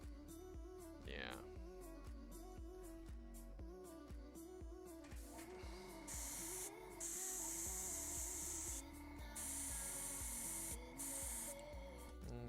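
Airbrush spraying paint onto a resin 3D-printed Chewbacca can coozie, soft hissing bursts starting and stopping over a steady background hum, fairly faint and without speech.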